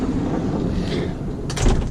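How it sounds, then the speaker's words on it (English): The big sliding door of an old bus without power steering opens with a steady rolling rumble, then a brief burst of clattering latch and metal sounds near the end, close and moderately loud. "Opening up the big sliding door"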